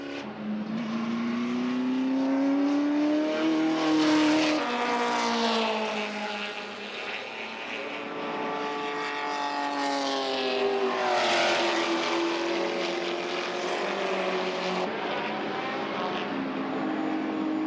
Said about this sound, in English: Australian Bib Stillwell still driving hard, as are X and Moss.